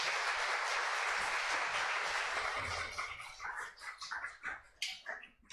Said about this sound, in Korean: 우리 하나님 앞에 감사와 영광의 박수 올려드리겠습니다.